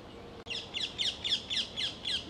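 A parrot perched at the top of a tree in a Tenerife park gives a steady series of about seven sharp, raspy squawks, evenly spaced and fairly clear over faint background ambience.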